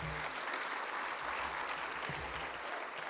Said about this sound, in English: So big applause for all of you.